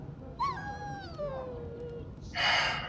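A warhound whimpers in the Dragon Age Origins game, with a high, wavering whine that slides downward, followed by a brief burst of rustling noise, close and clear.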